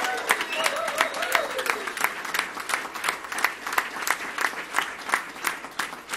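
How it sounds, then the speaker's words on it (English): A crowd at a civic celebration for Kansas City leaders gives a round of applause, with brisk, uneven claps packed closely together that hold steady at moderate loudness for several seconds without talking. "they deserve nothing more than a huge round of applause and our grateful gratitude"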